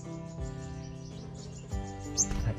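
Sunbirds near a bird trap give steady chirps and tweets in a continuous chorus, with sharper high calls toward the end.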